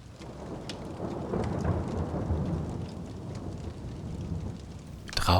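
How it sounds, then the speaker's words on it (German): Light thunderstorm outside a mountain hut: rain patters steadily on surfaces under low rolling rumbles of thunder, and a louder, sharper burst of rain or thunder comes at the very end. "Draußen tobt ein leichtes Gewitter"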